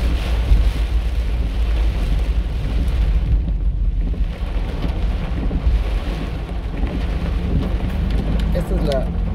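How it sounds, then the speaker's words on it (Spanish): Heavy rain pours onto a street in Chilpancingo beside a hill, a dense, continuous hiss with low rumbling wind buffeting the microphone throughout. "Ahí está la lluvia con todo."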